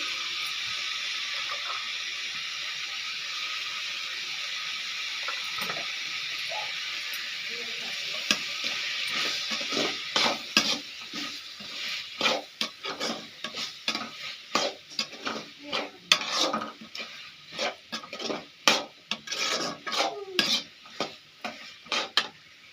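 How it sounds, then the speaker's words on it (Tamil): Bitter gourd sautéing with salt in a pan gives a steady sizzle at first, then turns into a run of scraping, clattering stirs from a spatula that grow busier and louder toward the end. "நல்லா வதங்கட்டும் ஃப்ரெண்ட்ஸ் லைட்டாக உப்பு போட்டு வதக்கிக்கலாம்"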